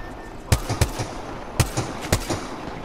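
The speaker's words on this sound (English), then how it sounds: "Yeah, I got shot from behind." Gunfire in Apex Legends: several sharp, loud shots come in quick uneven bursts, each a hard crack with a short tail, with no voices.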